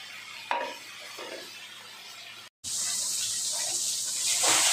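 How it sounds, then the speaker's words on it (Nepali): Fish with potatoes fries in a pan as salt and turmeric go in: soft scraping and stirring, a short silence, then a loud, bright hiss of frying that holds steady to the end. "আলু ভাজার পর মাছ ছেড়ে দিয়ে মশলাটা দিচ্ছে, লবণ, হলুদ"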